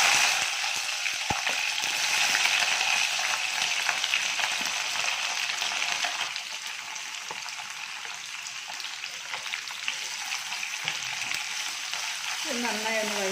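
Onion, ginger and garlic frying in hot oil with curry leaves, giving a loud, continuous close-up sizzle that eases somewhat midway, with a brief stirring scrape near the end.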